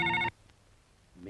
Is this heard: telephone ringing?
yes